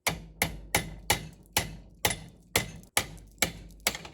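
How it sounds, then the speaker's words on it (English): Steady series of about eleven sharp metallic hammer strikes on a chisel cutting out a boat outdrive bearing carrier's outer ring, evenly paced roughly twice a second, loud and close with ringing decay. "I will continue chiseling that outer ring of the carrier out"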